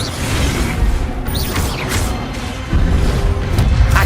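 The Expelliarmus spell in the Hogwarts Legacy video game lands as a flurry of whooshing, crackling magic with mechanical clanks and a heavier impact midway, loud and busy throughout.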